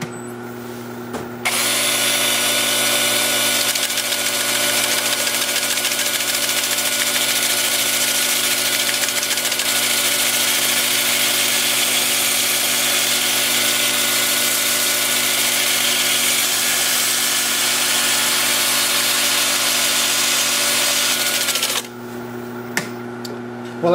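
A power drill spins an 80-grit sanding disc against a burl wood bowl, a steady loud whirring drone that starts abruptly, holds for about twenty seconds, then cuts off.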